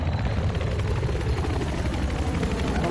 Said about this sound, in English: We got a chopper coming in.